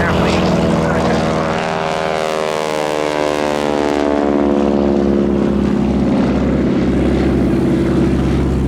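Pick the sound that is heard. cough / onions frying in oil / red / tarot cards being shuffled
red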